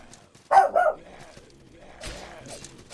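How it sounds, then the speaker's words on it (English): A dog in the game Salt & Sanctuary barks: a quick pair of close, sharp barks, then a softer bark a moment later, with little else around them. "Dog."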